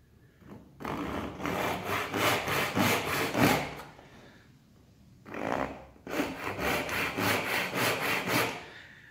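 A hand saw rasps through wood in quick, regular back-and-forth strokes, two bursts of sawing separated by a short pause, close and clear, while making small wooden boxes.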